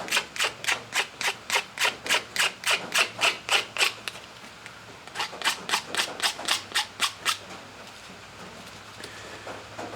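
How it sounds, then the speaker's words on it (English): Knife blade scraping plastic burrs off a knife sheath, a quick run of about fifteen rhythmic rasping strokes, a short pause, then another burst of around ten strokes, close and fairly loud with no talk. "we can come in with any kind of knife and do the final deburring. Get all that plastic off."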